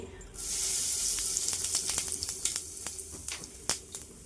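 Whole dried red chillies and cumin seeds hitting hot mustard oil, giving a bright hissing sizzle with scattered sharp pops and crackles, close and steady after a brief quiet start.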